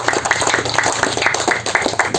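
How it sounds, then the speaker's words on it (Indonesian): Audience applause at a NasDem party political speech, a steady crowd clapping with rhythmic bursts, moderately loud and continuous for a couple of seconds. "Tepuk tangan dulu."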